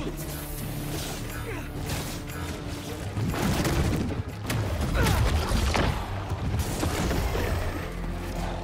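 Explosions and mechanical clatter burst through gameplay in Spider-Man 2 while Symbiote nests are destroyed, with heavy booms and rattling bursts growing denser and louder halfway through, a loud chaotic barrage.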